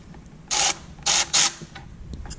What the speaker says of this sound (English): You're going to loosen the 14mm bolt at the top here on the bracket first.